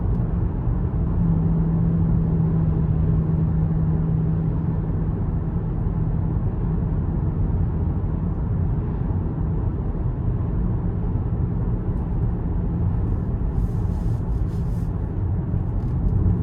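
Steady low rumble from inside a 2026 Lincoln Corsair Reserve II 2.0T AWD cruising in normal drive mode, an even road and engine drone throughout with no voices.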